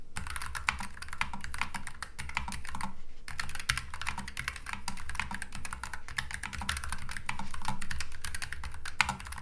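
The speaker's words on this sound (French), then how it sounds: "taper sur le K7 Pro avec des switches marrons c'est vraiment un régal" Typing on a Keychron K7 Pro low-profile AZERTY keyboard with brown switches: a fast, continuous run of soft, close key clicks with a brief pause, steady and alone.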